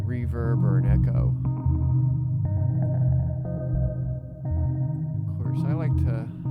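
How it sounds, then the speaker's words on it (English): A synth patch built with an MPC Live and Absynth 5 plays through a resonator effect. Sustained ringing tones hang with an echo-like, reverberant tail between stretches of a person talking. "sounds more like a reverb or an echo."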